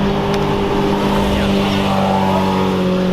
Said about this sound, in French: Ouais, la Murcielago.